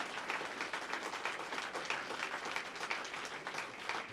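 Audience applause at a police awards ceremony in Pasadena, a steady, dense wash of many hands clapping at moderate distance, continuous throughout without talk.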